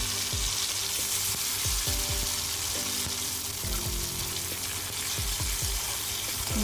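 Chopped tomatoes fry in a pan for masala rajma, a dense continuous sizzle with repeated scraping and stirring knocks throughout, close and steady, no voices.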